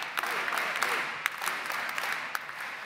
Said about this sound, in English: I think we have to give the very first cheer for UNE in this building